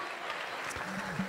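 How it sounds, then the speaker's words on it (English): At a fundraiser, the room gives table captains a brief, faint spatter of applause, a soft diffuse wash of clapping heard from a distance. "Can we get a round of applause for table captains?"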